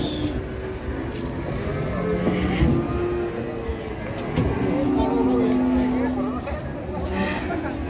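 Cattle being unloaded from a truck moo repeatedly, low drawn-out bellows rising over a busy background of crowd chatter and engine noise, with several calls overlapping.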